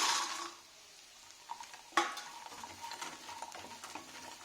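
Fried idli pieces being tossed and sautéed in an oiled pan for chilli idli, a scrape at the start and another sharp one midway, with light sizzling and soft spatula strokes between.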